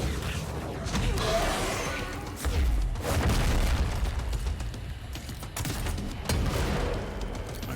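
Heavy booms and crashes of grenade explosions in the action game Control, several loud detonations spaced a few seconds apart over continuous rumbling combat noise.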